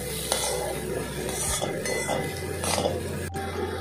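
Half-cooked moong dal is stirred into fried spices in a pan: scattered scrapes and metallic clinks of a spoon against the pan over a light sizzle, with a sharp knock near the end.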